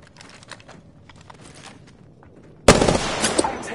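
Gunfire in the video game Apex Legends: soft footsteps and faint shuffling give way to a sudden loud, dense burst of rapid automatic fire near the end.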